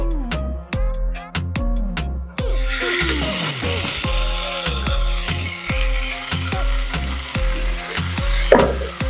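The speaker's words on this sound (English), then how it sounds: "now we're gonna fry up 3 slices of bacon." Three bacon slices fry loudly in a pan for a lobster roll pasta salad, a dense continuous sizzle starting after a couple of seconds, with regular clicks and a tonal background underneath and no voices.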